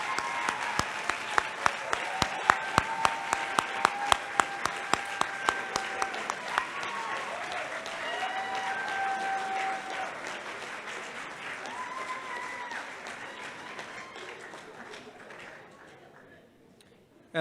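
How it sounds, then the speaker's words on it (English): An audience at a graduation ceremony breaks into applause, starting with distinct rhythmic claps and swelling into dense, sustained clapping before fading out, with some voices in the crowd. "Parents, can you please stand so we can give you a big round of applause?"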